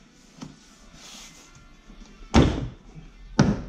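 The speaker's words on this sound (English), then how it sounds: "The door pops straight off." Clips on the driver front door panel of a 2016 Infiniti QX50 pop loose during removal: two sharp, loud plastic thunks about a second apart, preceded by faint handling knocks and rustles.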